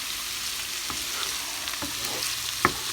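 Garlic and spices fry in a hot pan, giving a continuous close sizzle with a few soft stirring taps and one sharp clink near the end.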